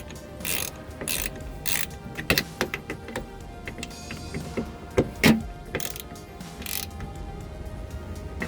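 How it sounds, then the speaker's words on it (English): A T30 Torx driver tightens bolts on a Porsche Cayenne during a passenger-side window regulator replacement, giving repeated close ratcheting clicks and mechanical clatter in uneven bursts without speech. "we're using the same thing, a T30, to tighten these bolts right here."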